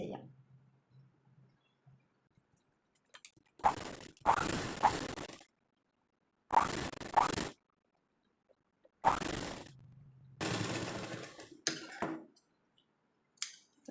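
A sewing machine stitches the back neck lining of a churidar in three or four short, whirring bursts separated by quiet pauses, close and fairly loud.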